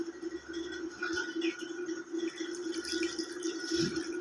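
Water running steadily from a tap over beef trotters and bones being washed in a sink, with soft splashing and drips throughout, no talking.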